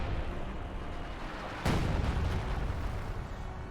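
An artillery barrage in Company of Heroes 2 rumbles as a constant low roar, with one sharp blast about midway and the booming carrying on after it. No voices.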